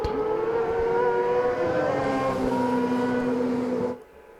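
Yamaha-powered racing sidecar outfit at Brands Hatch during a British Sidecar Championship race, its engine holding a loud, high droning whine with shifting pitch as it passes close, then cutting off sharply near the end.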